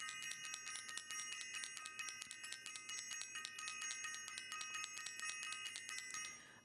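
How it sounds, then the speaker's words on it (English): A small hand bell rings in a fast, even string of bright strikes for about six seconds, fairly faint and alone, on a live call-in show before it stops. "I'm going to ring the bell."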